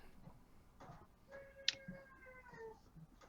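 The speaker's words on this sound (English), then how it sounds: "Glad that was not my wife making funny cat noises upstairs" A cat meows upstairs, a few short tonal mewing calls heard faintly from another room, with a sharp tick or click partway through over a quiet indoor background.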